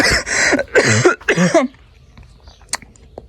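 A few harsh, close coughs in quick succession outdoors in a village vegetable garden, followed by quiet with faint small noises.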